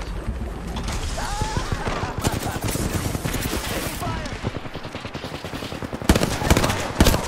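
Sustained automatic gunfire in a shooter game firefight, a dense rattling stream of shots running throughout with heavier bursts near the end, while players talk over it.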